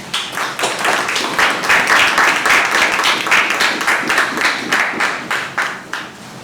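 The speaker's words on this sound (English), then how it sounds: "Let us give her a clap." Audience clapping at a topper session to welcome a guest speaker, a close, loud burst of hand claps with a quick, slightly uneven rhythm that carries on for several seconds and tapers near the end.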